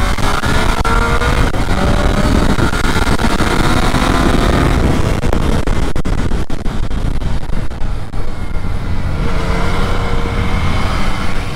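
Yamaha Tracer 900 GT motorcycle engine ridden hard on the Interlagos racetrack, a loud continuous roar with rising and falling revs and wind rush throughout, close to the rider.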